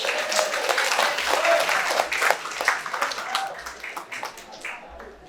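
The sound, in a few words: audience applause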